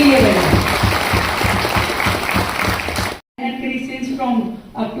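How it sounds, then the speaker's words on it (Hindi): Dense, sustained applause from a large crowd fills the clip, breaking off for a moment near the end before resuming more loosely. "मैं चाहूंगी जोरदार तालियां आप सभी अपने लिए बजाएं।"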